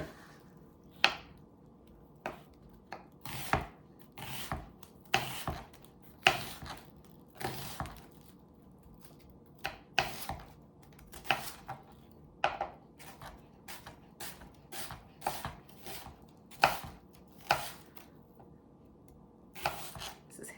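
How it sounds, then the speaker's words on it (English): A knife thinly slicing onions on a board, with a steady series of crisp chopping taps, close and clear, roughly one or two per second over the whole stretch. "Just gonna do a thin slice on the onions."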